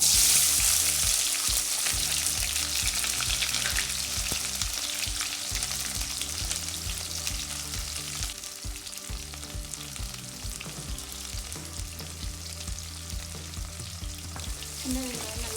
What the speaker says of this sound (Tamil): சின்ன வெங்காயம் நல்லா வதங்கணும்.